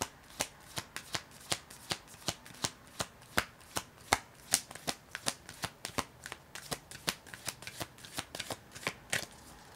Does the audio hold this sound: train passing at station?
no